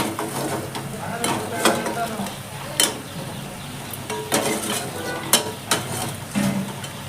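Chicken stirred in a hot pan for butter chicken fry, steady sizzle under repeated scraping and clinking of a spoon against metal, close and continuous.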